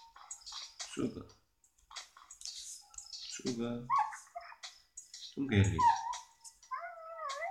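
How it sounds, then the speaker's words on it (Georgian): A dog barks, howls and whimpers in the Survival Island video game, with short cries between stretches of someone talking over the gameplay. "ძაღლი"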